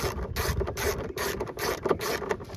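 A ratchet with a 6-inch extension turning tail light bolts on a 2001-2007 first-generation Toyota Sequoia, giving a close, rapid series of clicking bursts in quick rhythm with no talk.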